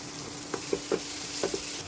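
Puréed tomato stirred into a frying masala for a spinach (palak) vegetable dish gives a soft, steady sizzle, with a few distinct spoon-against-pan stirring knocks. No voices.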